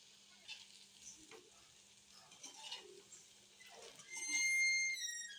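Pakoras frying in hot oil in a home kitchen, a soft steady sizzle with occasional stirring clinks, fairly quiet and close, ending with a brighter metallic ringing tone.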